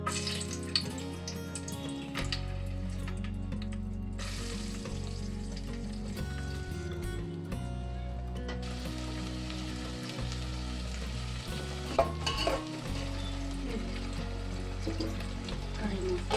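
Whole spices sizzle and fry in a pan for veg pulao, a steady soft crackle with occasional clinks of stirring, while a person talks over it.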